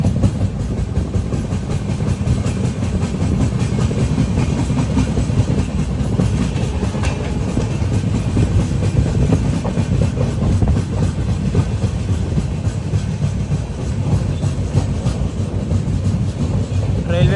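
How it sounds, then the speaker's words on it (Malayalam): The Goa Express passenger train runs toward Belagavi with a steady, loud rumble and rattling wheel clatter heard from inside the carriage, continuous throughout. "ട്രെയിൻ അങ്ങനെ ഇതാ ബെലഗാവിയിലേക്ക് എത്തിക്കൊണ്ടിരിക്കുകയാണ്"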